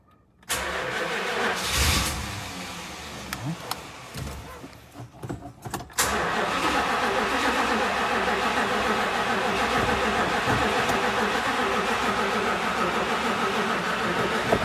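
A 1964 Imperial Crown with a newly replaced fuel pump cranks in several bursts with pauses, then catches and settles into a steady, loud, close running engine.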